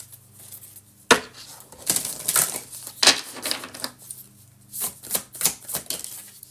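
Oracle-style moon cycle cards are handled and shuffled up close, giving a string of crisp slaps, flicks and rustles in irregular bursts, with no talking.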